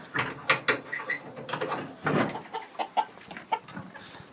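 Chickens cluck in a short burst of overlapping calls around a backyard coop, mixed with light metallic clanks from cage doors and latches being locked shut, all close by.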